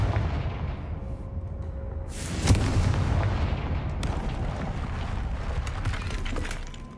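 The Confringo blasting spell in the video game Hogwarts Legacy lands with a loud, sharp explosive crack, followed by a rolling rumble and lighter debris-like snaps under steady low background noise.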